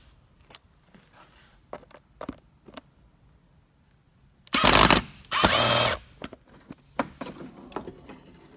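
Ratchet wrench with a 7mm socket loosening a hose clamp on a Chevy Cruze intake fresh-air boot: two loud bursts of rapid ratcheting clicks mid-clip, set among scattered handling clanks and taps.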